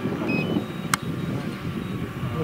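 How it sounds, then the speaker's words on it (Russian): Gusty wind buffeting the microphone with a low rumbling roar, plus a brief sharp click near the middle. "Ветер очень сильный."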